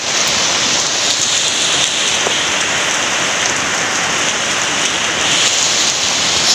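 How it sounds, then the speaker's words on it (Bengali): Heavy rain falls outside in a continuous, loud, dense patter and hiss on surfaces, unbroken and with no voices. "প্রচণ্ড পরিমাণে বাইরে বৃষ্টি হচ্ছে"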